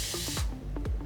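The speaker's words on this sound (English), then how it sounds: "spray" A spray bottle mists hair product onto curly bangs in several quick hissing bursts, close and loud, with no talking.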